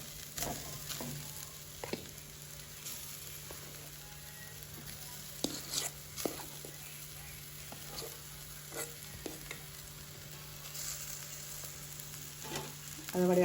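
Potatoes sizzling and frying in a hot pan for vegetable cutlets, with a steady crackle and repeated stirring scrapes and clinks up close, no talking.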